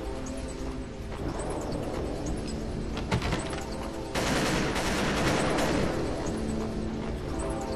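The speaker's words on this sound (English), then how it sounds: "They're shooting people." Dense rapid gunfire rattles through a Paranoia game scene with Soviet Streltsy and a terrorist mob, bursts overlapping into a sustained loud fusillade that swells midway.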